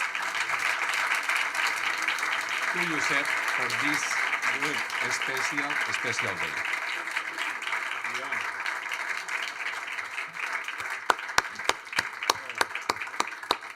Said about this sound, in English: And big applause